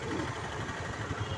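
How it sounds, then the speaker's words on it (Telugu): Auto rickshaws go by on a road with a steady, moderate engine hum and rattle that holds at an even level throughout, with no speech. "ఆటోలు వస్తున్నాయి."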